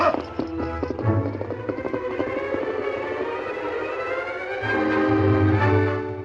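Horse hooves gallop away in an audio drama sound effect, a fast clip-clop rhythm running under a loud wailing tone that swells toward the end.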